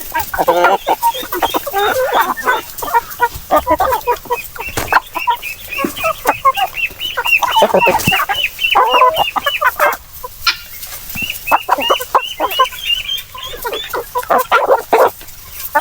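Chickens clucking and squawking busily close by, a continuous chorus of overlapping calls with occasional louder cries.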